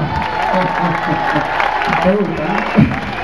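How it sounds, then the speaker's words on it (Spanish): Audience applause at a live concert, a steady wash of clapping with scattered voices talking and calling out over it, fairly loud throughout. "Fuerte el aplauso para Luis"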